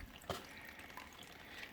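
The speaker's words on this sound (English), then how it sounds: "Just get it drained down into my rubbish bag" Water drains from an opened pipe into a plastic rubbish bag during plumbing work in a plant room, giving faint, sparse drips and trickles with one sharper splash near the start.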